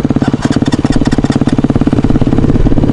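A cross motorcycle fitted with a swapped Bashan quad engine runs close by with a steady, throbbing idle. Its firing pulses repeat rapidly and steadily throughout, and no voices are heard.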